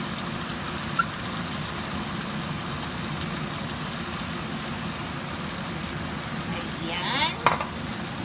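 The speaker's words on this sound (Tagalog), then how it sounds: "At ilagay natin ang ating sardinas." Sardines sizzle in a pan while scrambled eggs cook, a quiet steady frying hiss broken by a couple of small clinks of a utensil near the end.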